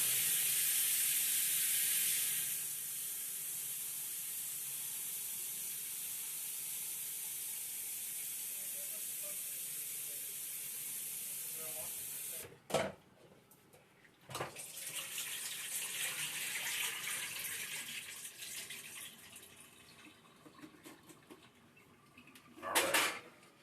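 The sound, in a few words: water filling and draining to rinse out starch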